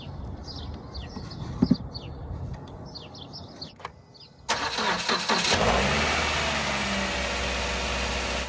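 A car engine cranks and catches after a jump-start from a portable jump starter, then settles into a steady, loud idle; faint chirps and a few clicks come before the start.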